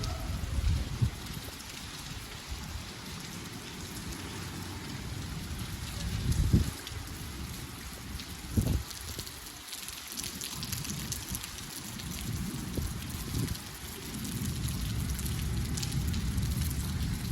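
Steady rain pours down onto a flooded school playing field in a dense, even hiss that continues throughout, with a few louder splashes and drips standing out now and then.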